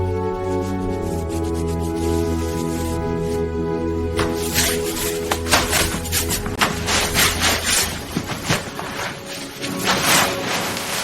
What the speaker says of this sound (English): I'll scrub these walls thoroughly.